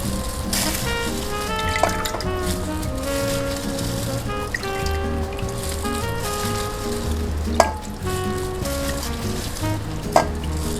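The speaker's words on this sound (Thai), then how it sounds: "น้ำเดือดแล้วเดือด" Water boils and sizzles steadily in a pot of Thai green curry with chicken, a continuous roiling hiss with occasional clinks of utensils, close and fairly loud.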